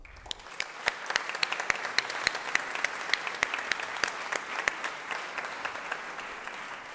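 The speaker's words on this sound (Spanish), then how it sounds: "con un caluroso aplauso para ambos" Applause from an audience at a government presentation on state modernization, starting with a few separate claps that thicken into a moderate, scattered patter before gradually thinning toward the end, with no speech over it.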